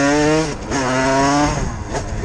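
A small moped in second gear, its engine note rising in pitch, dipping and climbing again as it revs close by, loud and buzzing with no talk over it.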